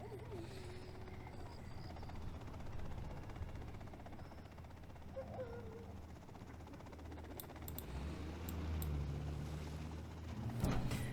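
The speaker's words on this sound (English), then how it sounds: "The Chinook is on the way." A Chinook helicopter in the real-time strategy game Command & Conquer Generals Zero Hour makes a continuous low rotor drone that swells and fades, with a few brief game effect clicks near the end.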